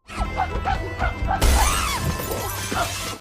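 A glass door shatters in an action scene from the horror film Primate, a sudden loud crash followed by a spray of tinkling shards, preceded by tense noises and a dog-like growl in the soundtrack.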